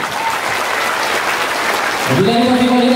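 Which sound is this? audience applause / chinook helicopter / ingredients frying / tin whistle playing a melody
audience applause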